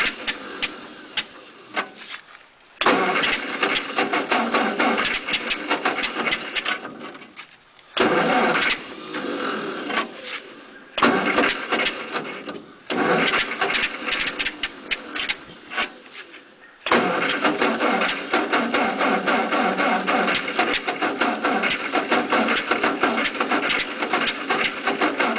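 A 1948 Ford 8N tractor engine cold-starts with a few cranking bursts and stalls, then catches and runs steadily with a loud, close, continuous rough idle.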